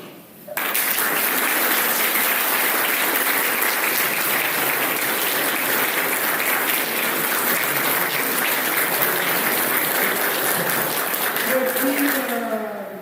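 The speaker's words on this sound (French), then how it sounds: "je voudrais qu'on applaudisse" Audience at a French longsword fencing championship applauding, a dense, sustained burst of clapping that starts abruptly and carries on loudly for several seconds before fading.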